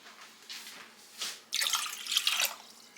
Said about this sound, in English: I'm going to add 3 cups of water to my pot.